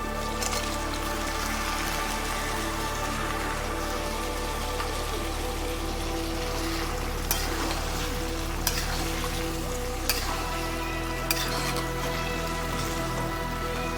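Boiled country chicken fries in a tomato masala paste, a loud, dense, steady sizzle like heavy rain that runs the whole time, broken by a few faint clicks.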